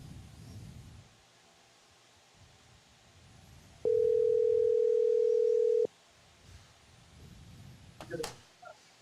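A single steady dial or ringback tone on an outgoing phone call, loud and continuous for about two seconds, over faint background rustle and low room noise, with no talking.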